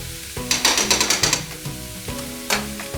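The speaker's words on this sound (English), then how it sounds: "The onions and garlic is sauteing up." Onions and garlic sizzle in a hot pan while being stirred for Polish cabbage rolls, a close, crackling fry punctuated by quick scraping strokes in an uneven rhythm.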